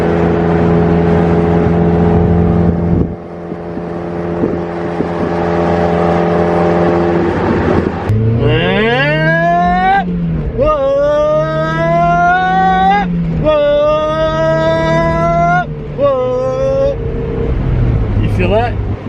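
A Mazda Miata engine drones at a steady pitch, then accelerates hard, its note climbing repeatedly through the gears from inside the cabin, with voices present at times.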